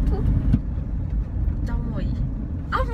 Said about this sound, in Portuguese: Tô aqui agora dentro do carro. A gente tá indo no shopping